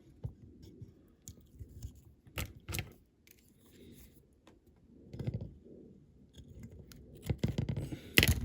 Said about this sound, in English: Cut the excess off.